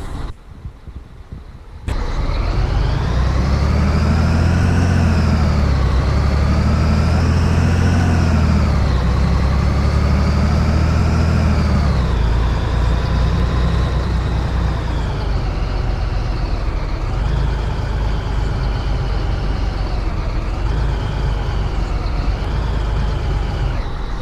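A heavy truck in World Truck Driving Simulator rolls along without its engine brake, its engine droning loud and continuous with rising and falling pitch as it changes speed, after a brief quieter start.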